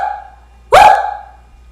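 A person imitates a dog's bark with one loud, sharp vocal woof over a faint lingering hum.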